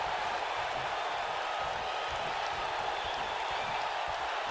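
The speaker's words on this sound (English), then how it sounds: "the crowd is loving Sasha's act" A pro wrestling arena crowd cheers and applauds in a steady, dense wash of noise, with faint voices mixed into the roar.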